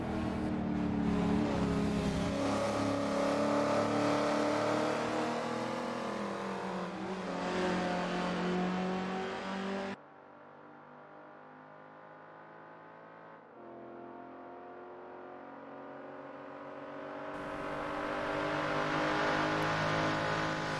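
1967 touring cars racing at Silverstone in the Assetto Corsa video game, engines revving loudly as the cars accelerate, the roar dropping back briefly to a quieter distant drone before building again.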